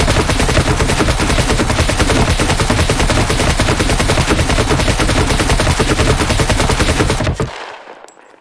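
An RPK machine gun in the game Scum fires a long continuous burst at a wall, loud rapid shots in a dense rhythm for about seven seconds before cutting off abruptly into near silence.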